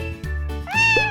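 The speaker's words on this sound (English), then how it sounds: "Cat." A cat meows twice in quick succession, short and bright, close up and clear with nothing else around it.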